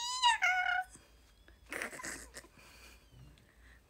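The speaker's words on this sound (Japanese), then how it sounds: "このめっちゃ頭抱え込んどるさ、 猫のやつ。" A cat in a played video lets out a shrill, squealing cry early on, followed by scattered softer rustles and noises at low volume.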